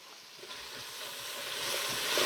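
Beef ribs and onions searing in a pot, a steady close sizzle and hiss that builds slightly in loudness, with faint stirring scrapes underneath.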